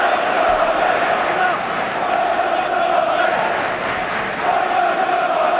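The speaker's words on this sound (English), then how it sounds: "Crowd really finding their voice now" A dense football crowd roars and chants at Chelsea versus Tottenham in an FA Cup sixth-round tie at a packed stadium, a loud continuous wash of massed voices that stays steady from start to finish.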